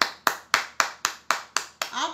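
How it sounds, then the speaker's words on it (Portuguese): Hands clap eight times in a steady, even rhythm, each clap sharp and close, followed by a brief voice at the end. "mas eu quero, ó, aplaudir."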